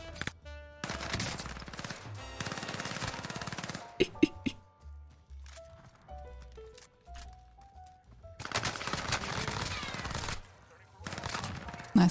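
Bursts of automatic fire from a MAC submachine gun in a Warzone solos match, loud rattling volleys at the start and again near the end, with quieter game sounds and scattered tones between.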